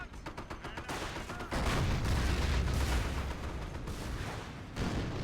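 IS-2 heavy tank firing in the Company of Heroes strategy game, with rapid crackling gunfire and booming cannon blasts layered into a dense, sustained battle din that swells loudly after a brief rattling opening.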